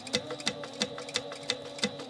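Sewing machine stitching a flap on a fabric book, with a steady rhythmic ticking of needle strokes, about three per second, close and moderately loud over a low mechanical hum.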